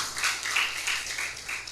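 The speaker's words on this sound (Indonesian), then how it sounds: "Tepuk tangan dulu untuk Tuhan kita yang baik." A church congregation applauding during a sermon, a fairly faint, brief wash of many hands clapping in uneven waves.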